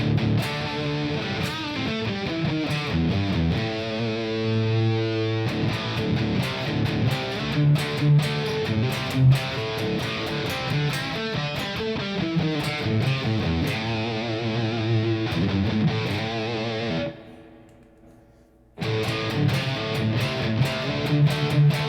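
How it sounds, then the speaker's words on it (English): Electric guitar played through the spring reverb effect on a Fender Mustang Micro, a sustained chordal passage with a splashy, wet tail that cuts briefly to near silence before resuming. "Next we got spring reverb."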